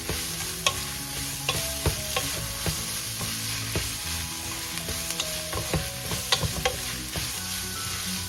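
Carrots sautéing in a pot for Filipino chicken noodle soup, with a steady close sizzle and repeated clinks and scrapes of a utensil stirring against the pot.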